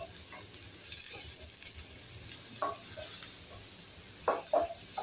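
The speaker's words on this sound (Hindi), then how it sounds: "ये गर्म हो चुका है तेल और इसमें हम डालेंगे ये लहसुन।" Garlic frying in a little hot oil in a pan: a faint, steady sizzle with a few brief clinks and stirring touches near the end.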